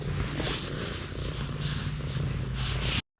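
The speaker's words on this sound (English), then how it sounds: "Our kitties are so sweet. They literally purr the second you hold them." A cat purrs close up in a steady, rumbling rhythm, continuous and fairly loud, ending with an abrupt cut.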